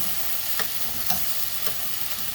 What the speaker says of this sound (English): we're just going to saute those for a few minutes